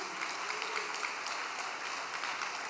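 An audience at a religious gathering breaks into spontaneous applause, a steady wash of many hands clapping heard at moderate distance and lasting throughout.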